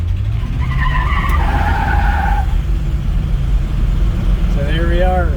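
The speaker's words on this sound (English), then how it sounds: "So there we are, the old classic car tire squeal." A 1959 Cadillac squeals its tires while turning out of a parking lot, with a high wavering screech over a loud engine rumble and a second squeal near the end.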